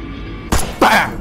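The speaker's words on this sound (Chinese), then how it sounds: "我靠，这一枪声音相当大呀" A loud gunshot in the horror game Detention, two sharp bursts of shattering, with glass-like fragments cascading after the second crash.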